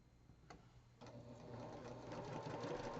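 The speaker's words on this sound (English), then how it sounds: "I'm going to sew it on the long edge" A sewing machine stitches quilt block pieces together along the long edge, a steady close mechanical whir that starts softly and builds to a continuous running hum.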